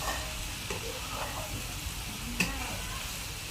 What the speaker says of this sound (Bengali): সুন্দরভাবে নাড়াচাড়া করছে